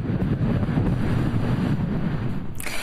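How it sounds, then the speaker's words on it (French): Strong wind gusts buffet the microphone, a continuous loud low rumble with a rushing roar, alone with no voices. "Et le vent a soufflé fort hier partout dans le royaume."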